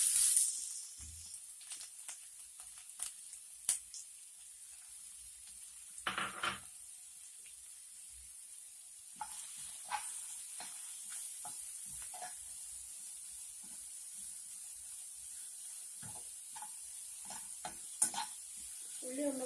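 Chopped onion and green chilies fry in a hot pan with a faint, steady sizzle, broken by occasional soft scrapes and clinks of stirring.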